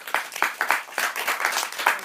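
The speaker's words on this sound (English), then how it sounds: "Let's give them a big round of applause." Applause at a festival press conference for the staff, interns and volunteers, a small crowd's brief uneven clapping, close and moderately loud.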